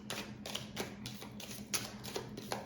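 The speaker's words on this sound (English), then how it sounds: "I'm just going to start shuffling the cards" Tarot cards are shuffled in a steady series of soft riffling taps and flicks, repeating roughly every half second, quiet and close with no talk.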